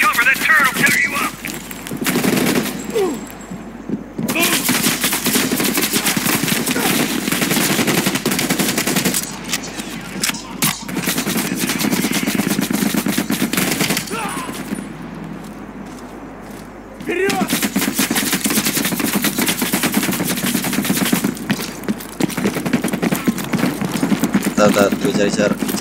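Machine gun turret fire in Call of Duty Black Ops Cold War, loud sustained bursts of rapid shots broken by brief pauses, with in-game voices and explosions mixed in.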